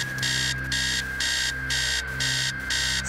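Insistent alarm clock ringing in the horror game Stories Untold: evenly spaced, harsh electronic buzz pulses repeating roughly every half second, loud and unbroken, over a constant low drone.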